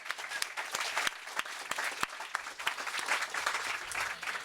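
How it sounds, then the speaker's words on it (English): Audience applause at a festival, a dense wash of many hands clapping at moderate distance with sharp individual claps poking out, steady throughout with no voices. "that deserves a round of applause"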